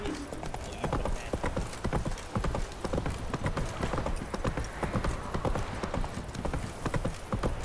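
In The Witcher 3, a horse trots steadily with rapid, even hoofbeats, loud and continuous against a busy game soundscape.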